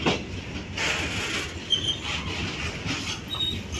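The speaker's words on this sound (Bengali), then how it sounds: "দেখলাম কি ট্রেন যাচ্ছে" A train rolls past with a steady rumbling clatter of wheels on rails, moderately loud and continuous, with no talking.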